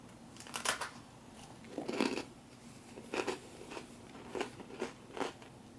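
Freeze-dried ice cream sandwich being bitten and chewed, giving a series of sharp, dry crunches close to the mic, spaced irregularly over a quiet background.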